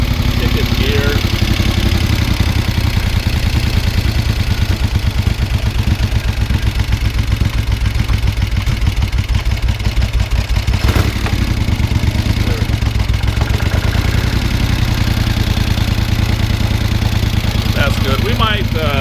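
A 1973 Moto Guzzi motorcycle engine runs steadily at a close, loud idle with a dense mechanical clatter throughout, and the engine stays even for the whole stretch.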